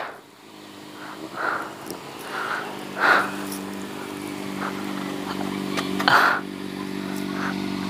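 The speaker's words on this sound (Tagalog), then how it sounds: "Pag nga naman inaswerte ka, makakita ka ng mga ganitong motor oh." Motorcycles ride past on a road, with engine hums swelling and fading several times over a steady low drone, and brief sharper bursts as each bike passes.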